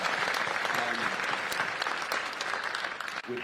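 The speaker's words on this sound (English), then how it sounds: "And that whole team here, Jessica Jackson, give them a round of applause as well on the Cut 50 team." Sustained applause from an audience at a criminal justice reform event, dense steady clapping close and loud throughout, tapering briefly at the very end.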